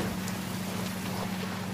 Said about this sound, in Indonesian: Wah, hujan deras ya.